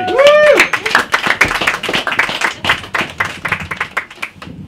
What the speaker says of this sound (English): A round of applause for Finn, please.